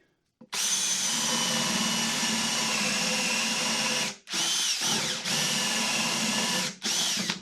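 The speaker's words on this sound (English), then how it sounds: "I'm just going to drill in and make sure that I'm drilling into a part where there's not a vein." Loud, close power drill whirring in long sustained bursts, briefly stopping and restarting twice, with a slight bite as it bores about 3/16 inch into wood for a wooden impeller.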